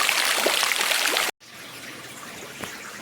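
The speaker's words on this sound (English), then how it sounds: "This runs constantly, always dripping down right from the top." Water trickling and dripping steadily inside Mother Shipton's Cave, a continuous close wash of running water that cuts out briefly, then resumes fainter with occasional drips.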